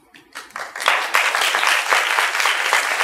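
An audience of commercial high school students at a film forum in Tainan breaks into applause, which swells within a second into loud, sustained clapping.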